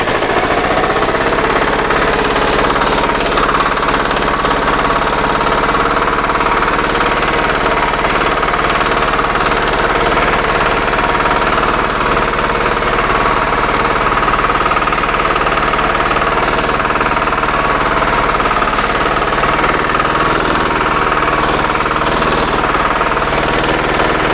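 A used farm tractor engine runs continuously in high range, third gear, with a loud, steady, rough chugging rumble and knocking vibration throughout, close by and with no talking.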